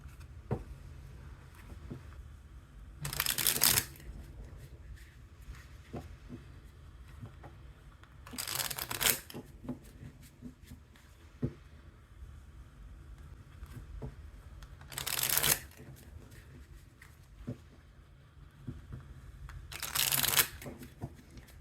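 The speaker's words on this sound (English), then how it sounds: "after shuffling, we have the sun at the bottom of the deck." Cards are shuffled four times in quick riffling bursts, spaced several seconds apart, with quiet handling noise between them.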